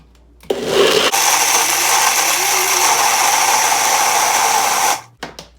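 A blender purees fruits, including pineapple, for a Jamaican fruit cake, running loud and steady for about four seconds before cutting off, followed by a couple of brief knocks.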